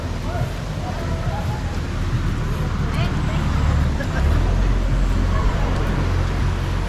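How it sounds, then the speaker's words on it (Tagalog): Trucks roll along a road near a cold spring in Magallanes, Sorsogon, making a continuous low rumble of traffic that swells slightly around the middle as a heavier vehicle passes close by, with no talking. "May mga truck pang dumadaan."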